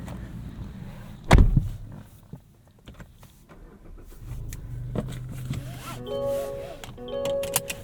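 A 2023 Mazda3 2.5 S Carbon Edition AWD hatchback engine starts with a loud, brief crank and catch, then settles to a low idle while interior chimes and electronic tones sound toward the end.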